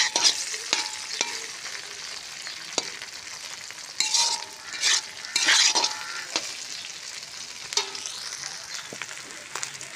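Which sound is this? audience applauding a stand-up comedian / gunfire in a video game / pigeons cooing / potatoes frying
potatoes frying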